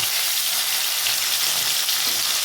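Shol fish (snakehead) frying lightly in hot oil, a steady soft sizzle filling the clip with no breaks and no voices.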